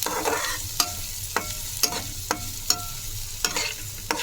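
A spoon stirs ingredients being roasted in a pan over a low flame, giving a soft steady sizzle broken by sharp, regular scraping clacks against the pan about every half second, with no talking.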